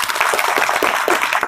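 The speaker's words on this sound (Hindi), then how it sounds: "मैं चाहूंगा उसके लिए एक जोरदार ताली होनी चाहिए।" Hall audience giving a loud round of applause for a 10-year-old daughter, dense rapid clapping that is close and sustained without a break.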